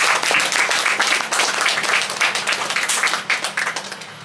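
A crowd claps together in steady, sustained applause at a Catholic engagement Mass, staying even, then beginning to thin out at the end.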